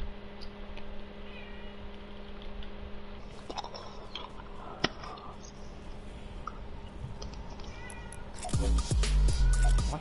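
A cat meows several times at close range, the calls short and mixed with clicking, chewing-like sounds and background noise, and the sound grows louder and rougher near the end.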